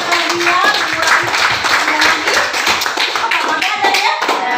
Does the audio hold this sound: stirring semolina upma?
no